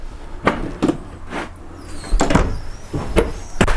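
Several drawers in a 2019 Jayco SLX 242BHS travel trailer kitchen slide open and shut in quick succession nearby, with soft thuds and light rattles.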